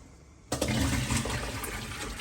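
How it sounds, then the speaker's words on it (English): Soaking water poured off carrots and potatoes while making vegetable beef soup, a sudden loud rushing gush that starts after a half-second of quiet and keeps splashing steadily to the end. "Now, I'm going to drain my carrots."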